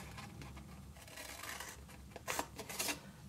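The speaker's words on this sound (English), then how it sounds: "the part we're going to cut, let me get my longer scissors, is to the left and right of the wider triangle." Long scissors cut through a paper template, giving a few quiet, crisp snips that cluster toward the end over a faint room hush.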